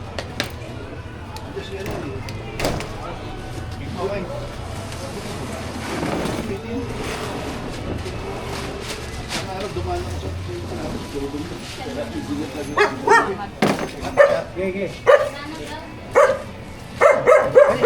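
Dogs bark in short sharp bursts, growing more frequent and louder toward the end, mixed with a person talking and background clatter.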